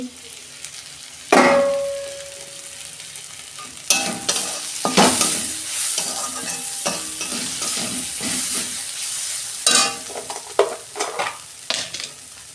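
Onions salted and frying in a pan for chicken curry, a steady sizzle broken by repeated loud spatula scrapes and clanks as they are stirred, up close.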